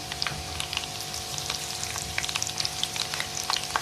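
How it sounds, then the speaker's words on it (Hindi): Ginger and green chilli frying in hot oil as the base for chicken nihari, a steady close sizzle with scattered crackling pops throughout, no talking. "ब्राउन कर लूँगी अदरक को। 1 से 2 मिनट तक हल्का हल्का ब्राउन होने दूँगी।"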